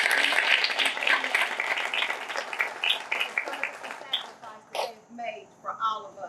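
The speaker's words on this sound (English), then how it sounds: "let's give them a round of applause" An audience applauding veterans at a groundbreaking ceremony for an affordable housing development in Knoxville, a dense burst of clapping that thins out and fades as voices and a few whoops come through.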